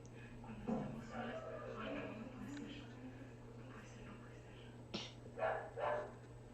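A dog barks in short bursts, first once early and then a close pair of barks near the end, while people talk and mutter quietly in between.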